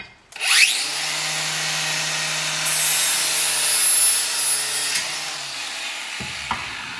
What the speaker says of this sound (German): Und der muss jetzt auch noch weggeschliffen werden. Das heißt, man nimmt die Flex nochmal,